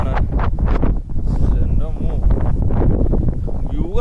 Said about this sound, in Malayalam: അത്രയും സ്പീഡിൽ കാറ്റടിക്കുന്നുണ്ട് ഇവിടെ